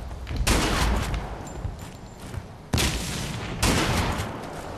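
Shotgun blasts in the first-person shooter Blacklight: Tango Down, with three loud booming shots spaced a second or two apart, each trailing into a long rumbling decay over continuous game noise.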